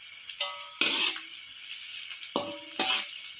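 Stir-frying for old-style nasi goreng in a pan, with a soft background sizzle broken by several bursts of scraping and tossing at a quick irregular rhythm.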